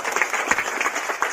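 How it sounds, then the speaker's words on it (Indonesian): Church congregation clapping together, a brief burst of fairly dense applause at moderate distance. "Mari tepuk tangan dulu, haleluya."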